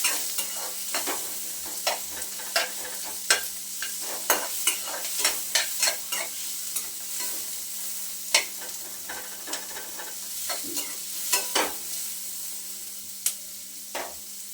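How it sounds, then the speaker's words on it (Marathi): Onion sautéing in a pan for Kolhapuri misal, a soft continuous sizzle broken by regular spoon scrapes and taps, close and moderately quiet. "कांदा आपल्याला छान गुलाबी रंगावरती परतून द्यायचा आहे व्यवस्थित"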